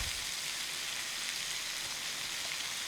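Onions, garlic and curry leaves frying in hot oil give a steady, dense sizzle with fine crackling, close and even throughout, with no talk over it.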